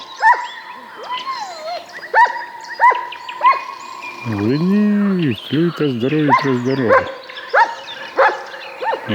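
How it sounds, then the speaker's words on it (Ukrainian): A dog at a lakeside fishing spot gives a run of drawn-out yelping barks in the middle, with birdsong chirping around it and someone talking before and after. "приїхав собаку купати"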